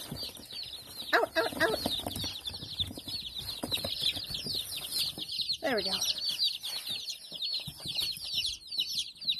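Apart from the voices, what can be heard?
baby Bielefelder chicks cheeping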